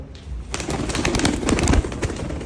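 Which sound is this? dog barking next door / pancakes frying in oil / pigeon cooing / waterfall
pigeon cooing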